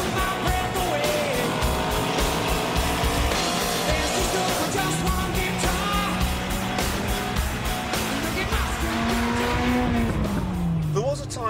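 A Ford Escort Cosworth driven hard, engine revving and shifting through gears with tire squeal and skidding, loud and close under a continuous music bed, with no clear talk.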